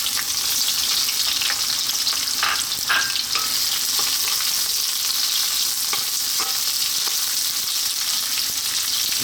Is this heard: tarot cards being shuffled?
no